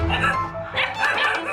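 A very tall dog barks and yips in a few quick, loud, close bursts with whimpery tones, alone and without talk.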